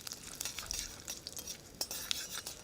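Urad dal and curry leaves are stirred in a frying pan, with a spoon scraping and clinking in quick, uneven strokes over a faint sizzle, close by with no talk.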